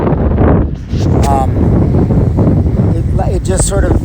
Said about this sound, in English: So if you notice, you'll see that there's wind.